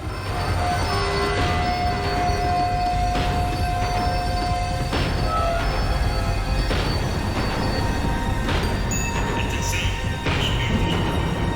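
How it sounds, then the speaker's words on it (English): A tram in Max Payne 3 slowing down, with metallic wheel squeal and rattling rail noise over a continuous rumble and a few clanks, steady and close throughout. "The tram was slowing down, and I'd only just gotten on board"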